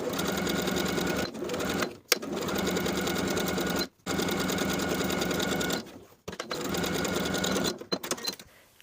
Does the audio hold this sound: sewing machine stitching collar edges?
yes